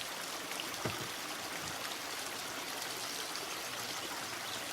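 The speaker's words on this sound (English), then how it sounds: "Just listen to the water. It'll calm your mind." Stream water flows in a continuous, even rush with a steady hiss and no breaks, heard close and alone.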